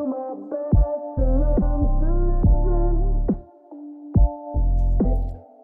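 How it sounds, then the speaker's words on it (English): A song filtered below 700 Hz, so only the thumping bass comes through as if heard through club walls, with muffled sustained low notes in repeated pulsing bursts and brief drops between them. "you're hearing all the bass coming through the walls"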